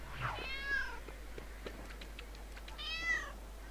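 A cat in the Lego City Undercover video game lets out two drawn-out meows a few seconds apart, with faint game clicks and ambience in between.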